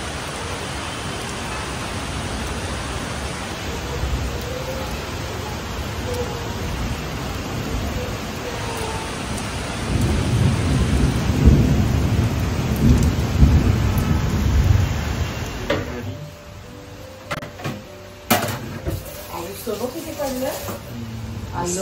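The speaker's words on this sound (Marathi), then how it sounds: "आणि मस्त पाऊस आहे बाहेर, मस्त पाऊस जोरात." Heavy rain pours down outside in a dense, continuous hiss, with a deeper rumble building midway before the downpour thins and a few sharp knocks sound nearby.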